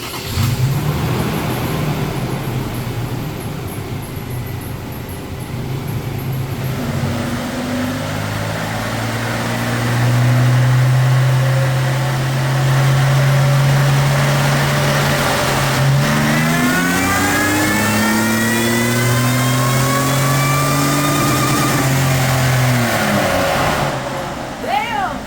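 Supercharged Toyota Tacoma TRD engine revving hard on a dyno, a loud sustained drone climbing steadily in pitch through a long pull, then dropping back toward idle and cutting off near the end.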